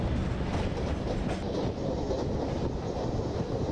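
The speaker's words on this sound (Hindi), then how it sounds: "सो भाई पूरी ट्रेन आ चुकी है मेन लाइन पे" An Intercity Express train runs on an Indian Railways main line in the Open Rails simulator. A loud, steady rumble carries a faint rhythmic wheel clatter throughout, with no talking.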